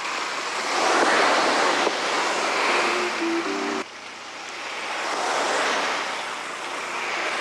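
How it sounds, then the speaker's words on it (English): A mechanical wave machine built as a surf sound effect, producing a rushing, swelling surge like breaking surf that rises and falls in broad washes, fairly loud and close. "MacDonald's wave machine was a look-alike cousin to the Rainmaker. This was used very successfully for surf"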